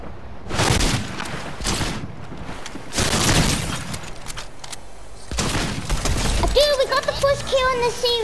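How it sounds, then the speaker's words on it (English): Gunfire in the video game Fortnite: bursts of rapid shooting in three loud volleys, with clattering mechanical game effects and a rising whine near the end. "Yo, people are shooting at me."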